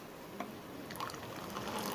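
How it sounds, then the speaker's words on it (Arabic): Boiling water poured into a tomato sauce seasoned with sugar and black pepper for white kofta, a steady soft liquid rush that keeps going for about two seconds, fairly quiet and close. "دي ميه مغليه، بزودها ميه مغليه"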